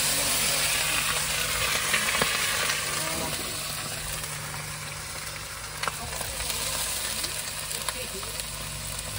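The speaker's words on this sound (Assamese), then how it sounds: "তো এয়া মাংস এতিয়া দিম কেৰাহীত।" Pork meat fries in a wok with a steady, loud sizzle and crackle, a speaking voice heard briefly over the cooking.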